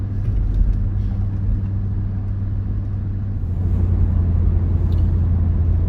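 A Nissan Y62 Patrol fitted with a Pacemaker cat-back exhaust passes by, giving a steady low rumbling drone of engine and exhaust that stays fairly even and moderate throughout, without any talk.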